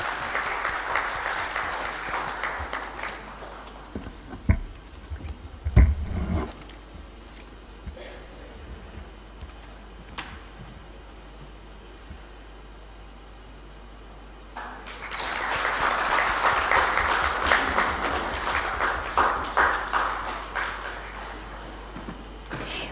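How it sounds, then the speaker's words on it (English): An audience at a conference on transgender health delivery claps, loud and sustained at first, then fading into a quieter stretch with scattered knocks before a second full round of applause swells up. "please give a huge round of applause to welcome our chief guest"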